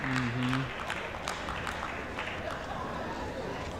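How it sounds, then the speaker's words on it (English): Applause and clapping ripple through the chamber during a House speaker vote, heard as a moderate, steady patter of scattered claps under crowd murmur, with a brief voice at the start. "now you're hearing clapping because they're getting momentum"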